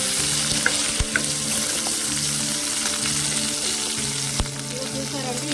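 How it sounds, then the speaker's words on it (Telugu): Green chillies fry in hot oil in a village-style kitchen, a loud, constant bubbling sizzle with occasional clinks and spatula knocks as they brown. "ఈ పచ్చిమిర్చి మొత్తం కూడా బ్రౌన్ కలర్ వచ్చేదాకా వేయించుకోవాలండి"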